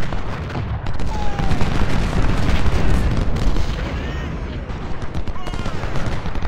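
Cannons and massed musketry fire in an Ultimate General: Civil War battle, with repeated booms and crackling volleys rolling almost continuously and loudly, punctuated by heavier thumps throughout.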